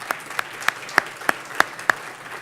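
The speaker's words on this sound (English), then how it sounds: "How about one more round of applause for Stephanie Silverman?" Audience applause at a film summit, heard as evenly spaced, fairly sharp claps in a steady rhythm rather than a dense roar, standing out from a quiet room background.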